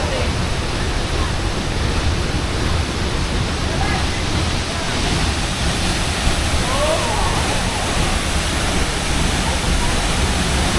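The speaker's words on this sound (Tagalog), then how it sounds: "ito yung isa sa mga tourist attraction dito sa Camiguin, ang Tunasan Falls" Tunasan Falls in Camiguin roars as a dense, steady wash of falling water, loud and unbroken throughout with no clear gaps.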